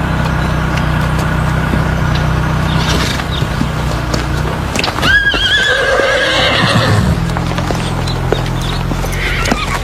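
Horses at a riding club neigh and whinny over steady hoof clip-clops, with one loud, close whinny rising midway before the clopping carries on.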